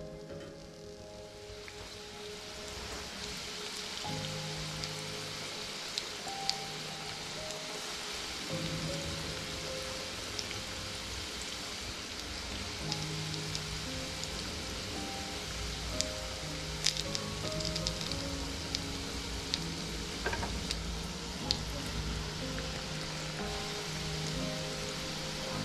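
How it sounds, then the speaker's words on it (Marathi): Mirchi bhaji, batter-coated green chilli fritters, deep-frying in oil, giving a steady, fairly quiet bubbling hiss with occasional sharp pops and small clinks throughout. "पूर्ण भजे आता आपण असेच तळून घेऊयात"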